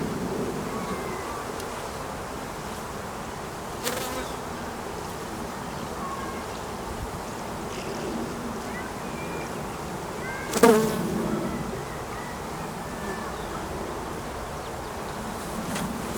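Honey bees crowd a queenless queen cell builder hive, giving off a dense, continuous close-up hum. Individual bees zip past now and then, with no speech.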